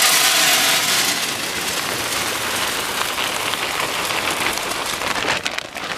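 Wood pellets, a cheaper non-Traeger brand, poured into the hopper of a Traeger grill, making a dense, steady hiss of many small pieces rattling down continuously for several seconds, fairly close and loud with no talking.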